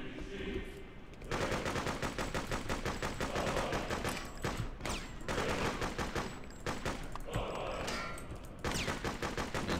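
Rapid bursts of shotgun fire ring out loud and close in the Freedom Fighters video game, nearly continuous volleys layered over each other with a short quiet lead-in.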